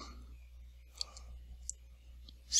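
A handful of sparse, faint keystroke clicks on a computer keyboard, spaced irregularly over a low steady hum, with a slightly louder tap at the very end.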